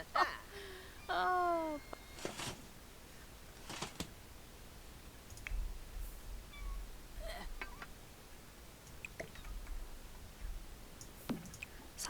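A cat meows in The Sims 4 game, a few short meows early on followed by sparse clicks and quiet game sounds, with a soft background hum.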